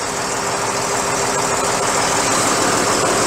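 YTO NLX 1404 tractor engine running at a steady idle, a constant close mechanical drone with no speech over it.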